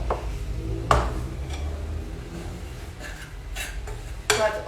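Gingernut biscuit ingredients, including butter, sugar and golden syrup, mixed in a bowl, with a few scattered scrapes and knocks of the utensil against the bowl over a steady background hiss.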